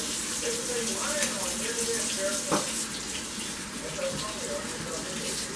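Hot tap water runs continuously into a sink while an aluminum model train passenger car is washed under it, a steady close splashing hiss with occasional knocks from handling.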